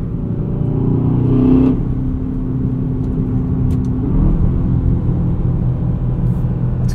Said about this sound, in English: This V8 sounds fantastic in an AMG. Not quite doing the same thing for me here in this DBX today.